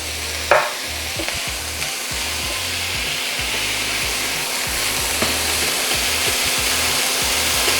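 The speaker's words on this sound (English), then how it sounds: "Because they're frozen, I'm gonna go ahead and add the peas." Frozen peas tumble into a pan of sizzling sausage and shallots with a sharp splash, then a loud, steady frying hiss and crackle with scraping stirs, no one talking.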